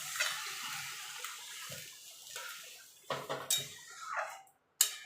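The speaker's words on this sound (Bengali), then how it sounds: "এবার আমি জল দিয়ে দেবো।" Water is poured into a pot of ghee-fried basmati rice: faint splashing and a few short clanks of the pot, louder in brief bursts near the end, with no talk.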